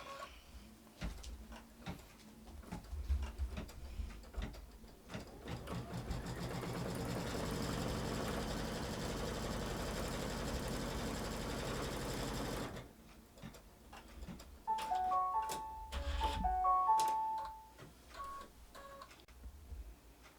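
A sewing machine stitches fabric in an embroidery hoop, a steady mechanical whirr after scattered clicks and handling noises, then a short series of electronic beeps near the end.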